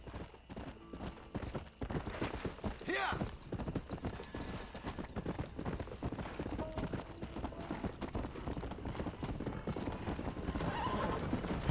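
A horse in the video game Grand Theft Horse clip-clops with steady hoofbeats, and a whinny rises near the start, all fairly faint and continuous.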